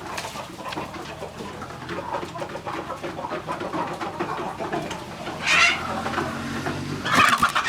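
Native Pradu Hang Dam KKU55 chickens cluck and call steadily on a farm, with a mix of close and distant bird calls and a few sharper, louder calls near the end.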